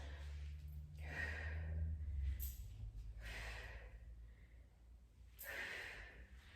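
Forceful breaths out repeat during a strength exercise workout, three broad breathy exhales roughly every two to three seconds, close and clear over a steady low hum.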